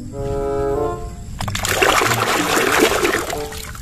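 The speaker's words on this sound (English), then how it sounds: "Wow, this is water." Water runs and splashes while toys are cleaned, a dense continuous gush following a brief tonal hum, fairly close and loud.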